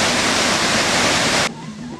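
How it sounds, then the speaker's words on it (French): Rushing river water from waterfalls and rapids in the Luba region of Katanga, a loud, dense roar that cuts off abruptly near the end, leaving a quieter background. "Les chutes, les rapides et les cascades sont nombreux."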